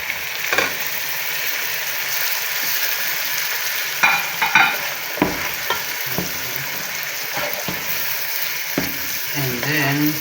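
Chicken capers frying in a pan with tomato just added, a steady sizzle and crackle broken by several sharp stirring and scraping clatters of a utensil against the pan, close and fairly loud.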